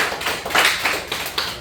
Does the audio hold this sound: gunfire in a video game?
no